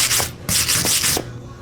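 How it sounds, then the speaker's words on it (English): A lacquer-thinner-soaked rag wipes along a brake line on a 1973 Oldsmobile 442, giving loud, close scrubbing strokes in a few quick back-and-forth bursts with no talking. "I'm cleaning it off with a lacquer thinner rag"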